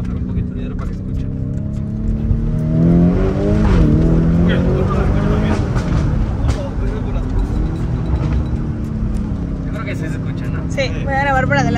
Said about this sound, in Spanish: los pops. Voy a bajar un poquito el hierro para que se escuche.